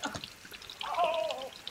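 Water is stirred around in a large crawfish boil pot for a Louisiana-style outdoor boil, making a close, brief sloshing and swirling that swells for about a second.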